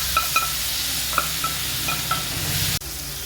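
Curry leaves and boiled pumpkin sizzling in coconut oil for mor kuzhambu: a close, bright sizzle with a few light spatula clinks, cut off abruptly near the end into quieter background, and no talking.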